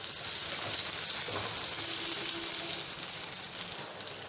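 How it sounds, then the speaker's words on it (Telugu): Onion pieces frying in hot tempering oil with curry leaves for a gongura chutney, a steady close sizzle and crackle running throughout with no talk. "తర్వాత ఈ విధంగా పోపులో కూడా వేయించుకొని చేసుకోవచ్చు."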